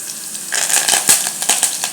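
Crushed garlic and curry leaves hit hot oil with cumin over a low flame, giving a close, crackling sizzle with light pops and stirring clicks.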